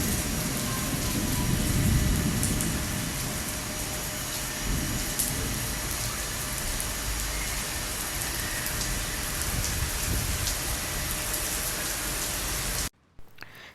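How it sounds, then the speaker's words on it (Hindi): Sudden heavy rain pours down in a steady loud hiss, with a deep roar swelling near the start. It keeps up without break until it cuts off abruptly at the end. "आज बारिश हो गई है और बहुत ज़ोर की आउट ऑफ सडन बारिश हुई है"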